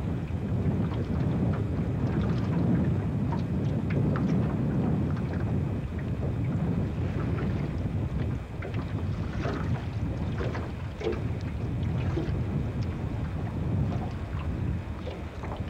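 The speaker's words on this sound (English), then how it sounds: "Pretty windy day." Strong wind gusts buffet an outdoor microphone on a windy day in 1988, a steady, loud low-frequency rumble that continues throughout with no break and no voices.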